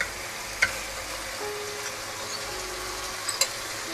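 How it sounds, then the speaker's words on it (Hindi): A spoon stirs yogurt quickly into a masala for kachnar and meat curry. A low, steady sizzle is heard close up, broken by a couple of sharp spoon taps against the pot, with no talking. "फिर मैं इसे जल्दी जल्दी से हिला रही हूँ ताकि दही जो है ना इसमें बड़ी अच्छी सी स्मूथ सी हो जाए"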